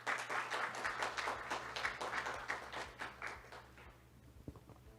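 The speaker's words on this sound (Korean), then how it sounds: "여러분 큰 박수로 맞이해 주시길 바랍니다." Applause at an ESG forum as a guest speaker is welcomed, a soft scattered patter of hands in a hall that thins out and fades, with a few louder claps near the end.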